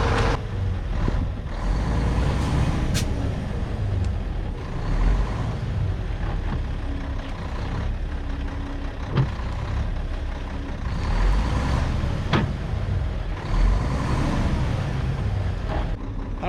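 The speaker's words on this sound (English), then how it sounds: "let's see if we can get this truck out of here" A truck driven out along a dirt work site, its engine rumbling steadily nearby with shifting revs, faint clanks and a few sharp knocks, and no voices.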